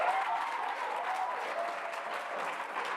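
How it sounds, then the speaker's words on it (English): Audience applause at a memorial lecture, a steady, soft wash of clapping from a crowd heard at a distance for a few seconds. "Another round of applause."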